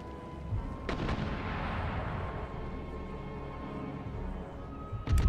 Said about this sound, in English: Artillery focus fire on their cavalry to the rear